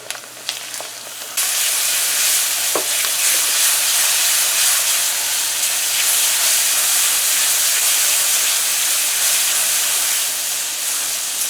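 Curry paste sizzles and hisses loudly in a hot pot, a steady continuous fry that jumps up sharply after a brief quieter start and holds on alone with no talk.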